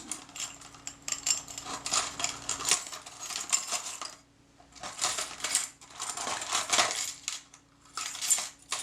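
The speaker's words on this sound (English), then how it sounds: "You can hear me in the background sorting through my piles of odd parts." Metal camera parts for a Retina Reflex S are sorted by hand in piles, producing dense bursts of jingling, clinking metallic rattles with brief pauses between rummaging, close-up and without speech.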